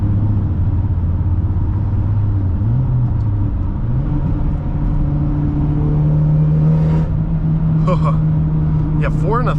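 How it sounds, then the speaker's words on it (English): A 2011 Mitsubishi Lancer Evolution GSR engine drones loudly from inside the cabin, its steady note climbing in pitch as the car accelerates, with a voice talking over it throughout. "It's actually crazy how scary it is to accelerate on this Lancer."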